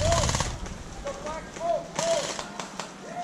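Airsoft guns firing in quick snapping shots during an outdoor team skirmish, several pops spread over a few seconds with ringing chirps and a voice talking over them.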